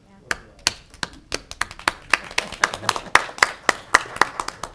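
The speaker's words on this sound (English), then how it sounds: "Smattering of applause." Scattered hand claps from a small group at a Bradenton CRA public meeting, sharp and uneven, building into a light round of applause that never becomes a full ovation.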